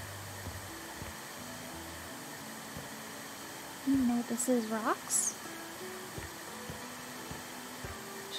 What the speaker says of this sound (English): Don't mind me. Just vacuuming.